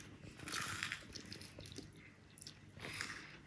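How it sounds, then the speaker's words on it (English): Someone bites and chews crunchy toast topped with avocado and bacon, giving quiet, close crisp crunches in a couple of bursts with soft chewing between them. "It's got an amazing crunch."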